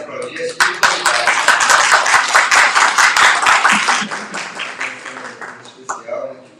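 An audience at a Spiritist gathering claps, a burst of dense applause rising quickly and holding strong before tapering off, with a voice briefly heard near the end.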